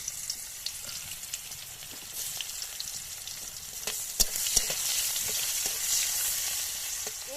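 Onion sizzles in hot oil for a Bengali lau chingri dish, a soft, steady crackling fry with occasional stirring taps, faint and close with no talking.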